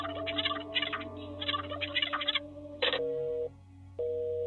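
Telephone keypad tones in the video game There Is No Game: Wrong Dimension, a quick run of short dialing beeps followed by two longer sustained tones separated by a gap, crisp and close with no talk.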